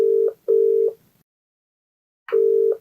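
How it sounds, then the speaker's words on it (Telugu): An outgoing telephone call rings back with a steady double-pulse tone: two short beeps, a pause, then another pair. The ringback is clear and alone, with no voices. "మరి కాల్ చేసేద్దామండి."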